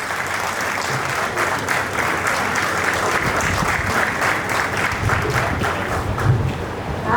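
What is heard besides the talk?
audience applauding at a book event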